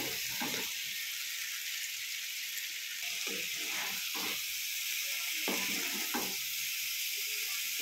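Soaked potatoes go into a pan of sizzling spiced masala for shahi aloo dum, giving a steady loud frying hiss throughout with a few brief louder bursts of crackle and stirring, no talking.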